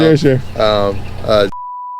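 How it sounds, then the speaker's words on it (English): A person talks for a moment, then a steady electronic censor beep cuts in and holds to the end. "I could just beep it out after you give it to me."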